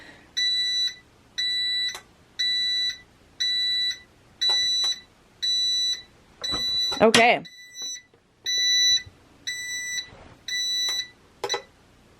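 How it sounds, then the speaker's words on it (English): A tumbler heat press alarm beeps in a steady repeating pattern of short electronic tones, with a brief clatter and a short spoken word partway through. "usually it'll beep letting me know that it is ready"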